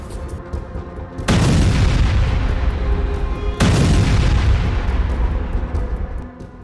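Two heavy, booming blasts from a missile or bomb strike land about two seconds apart, each a loud broadband burst that decays into a long rumbling tail over steady background noise.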